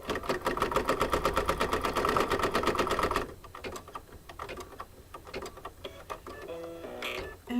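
An embroidery machine stitches green fabric onto an apple coaster design, a rapid, steady mechanical needle rattle for about three seconds before stopping, followed by scattered clicks and light handling noises nearby.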